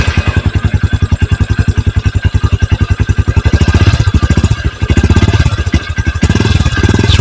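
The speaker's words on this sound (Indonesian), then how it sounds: "mari kita akan mencoba menyalakan mesin motor ini." A Honda CB 150 Verza motorcycle engine starts and settles into a steady, loud idle, its rapid even pulsing close and continuous throughout with no talk.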